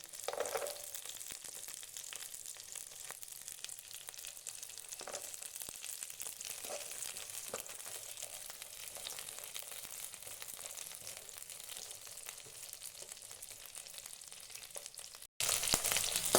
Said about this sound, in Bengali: তারপর এখানে আমি বাদামটা অ্যাড করে দেব।